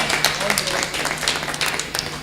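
Continuous crowd applause at a kavi sammelan poetry gathering, dense and steady throughout, with many hands clapping at once in a large room.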